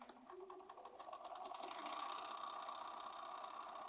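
Bernina B480 sewing machine stitching a straight line, a fast even mechanical whir with rapid needle ticks that speeds up and holds steady, faint and close.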